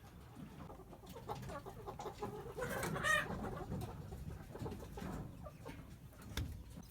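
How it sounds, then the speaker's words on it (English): Chickens out on spring pasture near their eggmobiles, clucking steadily in a dense overlapping flock chorus at moderate distance, with no one talking. "So, day 2 on pasture, and the birds have got the hang of it so fast"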